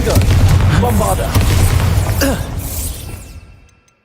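A Bombarda blast spell in Hogwarts Legacy bursts into a heavy, booming explosion, loud and close, with a rumbling tail that fades to silence at the end.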